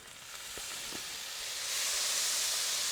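Steady sizzling hiss of water hitting a hot Blackstone griddle during cleaning, swelling louder toward the end, with a few faint ticks early on.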